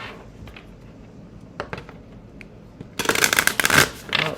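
Tarot cards shuffled by hand in small portions, with faint scattered riffles at first and then a loud, dense burst of close card flicking and sliding.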